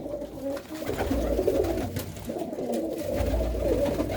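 A black Cheena pigeon in a loft coos in repeated low, throaty phrases, close and fairly steady, over a soft rumbling background.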